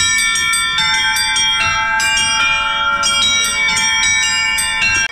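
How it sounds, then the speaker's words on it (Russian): Church bells ring from a bell tower in a medieval-style Russian tower exhibit, loud and close, a rapid overlapping peal of several bells struck in quick succession, sustained for about five seconds with no talk. "В этот момент в нашу экскурсию словно из тех далеких времен вплетается колокольный звон"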